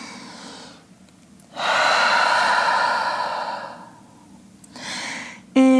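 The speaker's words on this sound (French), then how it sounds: "Grande respiration en chien tête en bas." Deep, audible breaths during a downward dog yoga pose: a long, loud exhale through the mouth follows quieter breathing, then another softer breath, close to the mic with no speech.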